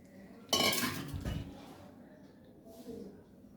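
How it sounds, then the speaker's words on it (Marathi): Drumstick pods go into masala in a cooking pan for shevga masala: a sudden loud clatter and scrape lasts about a second, then faint stirring and soft clinks follow in a quiet room. "आपण ह्याच्यामध्ये आता हे शेंगा टाकून देऊया"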